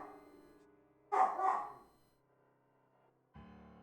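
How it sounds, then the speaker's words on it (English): In the video game AI: The Somnium Files, a dog lets out a quick pair of close barks over a quiet musical backdrop, with the music continuing softly afterward. "he's barking at nothing"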